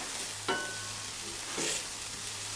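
Angus beef patties from a local butcher sizzle steadily on a Blackstone griddle, a constant close hiss broken by two brief spatula scrapes as they are flipped; no one speaks.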